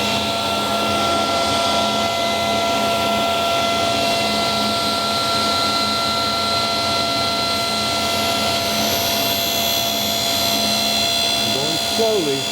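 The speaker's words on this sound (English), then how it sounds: "Saw." A saw cutting a lid, running as a steady high whine with a sustained tonal hum and a rising pitch sweep near the end, loud and close.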